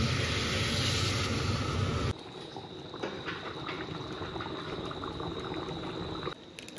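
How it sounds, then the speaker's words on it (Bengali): Water goes into a pot of ghugni on the stove. A loud, close hissing sizzle lasts about two seconds, then gives way to a softer, steady bubbling simmer. "এখন জল দিয়ে দিচ্ছি।"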